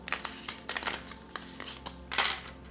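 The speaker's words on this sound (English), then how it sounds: "Spirit is asking me to shuffle once again." Harry Potter playing cards being shuffled for a tarot-style reading, heard as a few quick, close papery riffles and crinkly flicks in short bursts, with no one talking.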